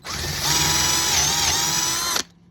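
A power drill whines steadily at high speed for about two seconds while drilling a cigar box guitar part, then cuts off abruptly.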